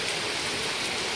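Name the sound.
heavy rain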